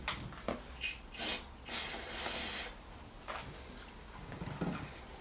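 Short hissing bursts, probably white grease being applied to a car battery terminal on a Mercedes C180 W203, come close and fairly quiet in several uneven spurts with pauses between them.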